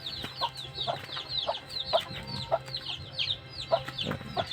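Native chickens, Hulo/Aseel fowl kept in a backyard, cluck in short repeated bursts close by, several birds calling over each other in an uneven rhythm with light background noise.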